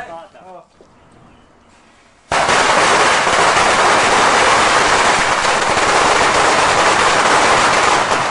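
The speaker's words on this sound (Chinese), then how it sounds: "放炮啊！" A long string of firecrackers goes off during a temple procession seeing off the local Earth God deity. After a few seconds of shouting voices, a sudden, loud, dense crackle of rapid bangs begins and runs on without a break.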